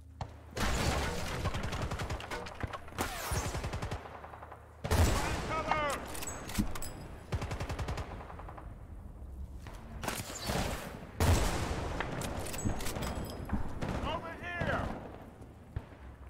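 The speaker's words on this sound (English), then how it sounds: "I don't know who's shooting at me." Dense bursts of gunfire and fusillades from the Battlefield Bad Company 2 campaign, with repeated volleys and explosive impacts in loud clusters separated by brief lulls, heard over game sound.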